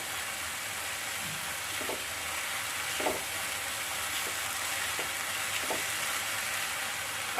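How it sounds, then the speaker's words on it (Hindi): A spice masala with red chilli powder fries in oil in a pan for veg egg kadhi, producing a continuous, even frying hiss with a few soft, spaced clicks from stirring. "अब इसे फ्राई करूंगी जब तक ये तेल ना छोड़ दे।"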